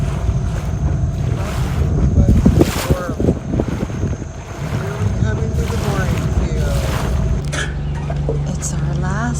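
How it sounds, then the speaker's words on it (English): An outboard-powered dinghy motors across Great Harbor at Jost Van Dyke in the British Virgin Islands, its engine hum under heavy wind buffeting and splashing water, with people talking over it. "Last dinghy ride of the trip."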